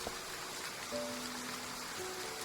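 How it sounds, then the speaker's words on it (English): Heavy rain in the video game Love and Deepspace pours as a steady hiss of falling water, fairly faint and even throughout, with a few soft sustained musical tones sounding over it. "Where did this rainfall come from? It's raining cats and dogs."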